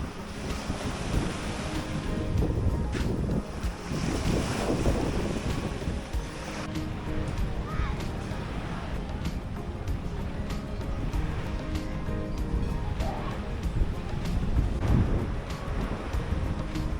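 Ocean waves wash onto a beach on Upolu Island, Samoa, in a steady surging roar with heavy wind buffeting the microphone throughout; no voices are heard.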